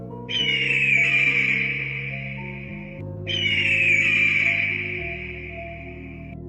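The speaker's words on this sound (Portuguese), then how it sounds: "Águia." Eagle screech in a Portuguese animal-sound quiz: two long, loud, shrill calls of about two and a half seconds each, separated by a brief pause, set over a steady low musical backing with no talking.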